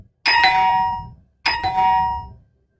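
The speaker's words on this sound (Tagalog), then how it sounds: "biglang tumunog ang kanilang doorbell" A doorbell rings twice in a horror story, each ring a bright two-tone chime that sustains and fades, with a short gap between them and no voices.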